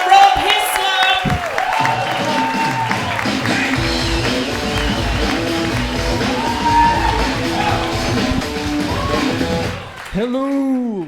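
Comedy club audience clapping and cheering for a comedian taking the stage, with yells and whoops over the applause before it drops off near the end as a voice begins.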